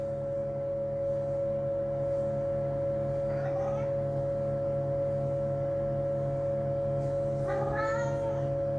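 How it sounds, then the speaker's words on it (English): Two short meows from cats, one midway and one near the end, heard over the steady mechanical hum and tonal whine of a warming-up scanner. "Now, here come the kitties."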